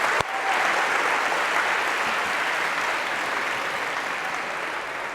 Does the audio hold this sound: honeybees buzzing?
no